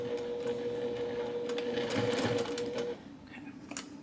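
A sewing machine back stitches to finish a cross stitch piece, running in a fast, steady whir for about three seconds before stopping, with a few faint clicks afterward.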